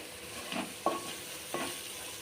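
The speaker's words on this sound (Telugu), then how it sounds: "ఇదిగోండి ఈ విధంగా మసాలా మంచిగా వేగాల." Masala frying in a pan for fish curry, a steady close sizzle with a few soft scraping stirs of the spoon, no voices.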